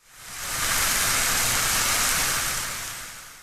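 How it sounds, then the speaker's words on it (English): Steady, dense sizzling of onions frying in a pan, a close crackling hiss that swells in and holds evenly, much like rain. "It's rain, except it's actually onions frying in a pan."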